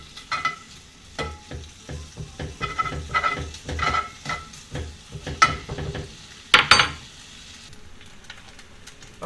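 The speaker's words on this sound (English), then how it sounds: "We're going to brown up some bacon. Now, stir it up, separate it out a little bit there." Bacon browning in a skillet, with a steady sizzle and frying crackle under repeated scraping strokes as a utensil stirs and separates the pieces. The sound is close and clear, with no talk.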